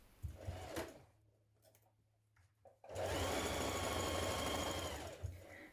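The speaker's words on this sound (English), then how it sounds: "stitching the two pieces together" Domestic sewing machine stitching two dress pieces together, a short rattling burst of needle chatter, a quieter pause with faint handling sounds, then a longer steady run of rapid mechanical stitching close by, with no talking.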